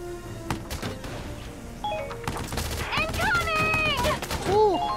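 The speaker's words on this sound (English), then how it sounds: "We need suppressive fire now!" Suppressive gunfire in Valkyria Chronicles 4 during urban combat, scattered close shots and impacts mixed with game music and tonal effects.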